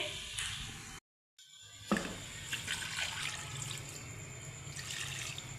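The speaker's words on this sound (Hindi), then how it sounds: "अब हम इसके अंदर थोड़ा सा पानी ऐड करेंगे।" Water pours steadily into a cooking pot of chicken karahi, a continuous splashing trickle with a brief pause near the start.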